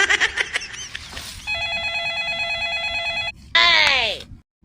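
A telephone rings with a steady electronic tone lasting a couple of seconds, broken by a brief gap, then a louder warbling ringtone burst; rustling and background noise sit underneath in a village home.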